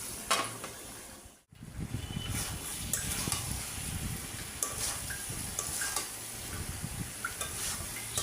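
Vegetables with shrimp sauté in a pan, a soft continuous sizzle with occasional stirring scrapes and light metallic taps, fairly quiet with no talking.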